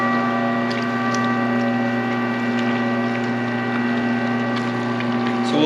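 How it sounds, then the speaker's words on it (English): A meat grinder motor drives a mixer attachment blending brat sausage meat, a steady loud mechanical hum with constant tonal whine and faint rattling, unbroken throughout. "we can run it off the grinder motor instead of doing it by hand"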